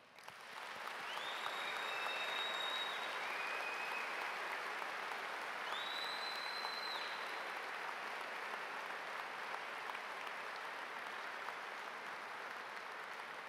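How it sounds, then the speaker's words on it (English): An audience at a student recognition ceremony breaks into sustained, even applause that swells quickly and holds steady, with a few faint whistles rising above the clapping early on. "I want to start by giving you a tremendous round of applause for your accomplishment."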